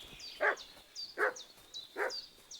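A dog barks three times at an even pace in Kingdom Come Deliverance 2, moderately distant. Each bark is short and sharp, with high birdsong chirping throughout the background.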